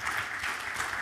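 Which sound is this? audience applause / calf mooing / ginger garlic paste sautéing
audience applause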